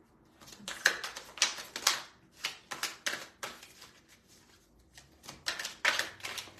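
Tarot cards shuffled by hand in a run of quick papery riffles and flicks, some bursts crisp and close, with short pauses between the flurries and no talking.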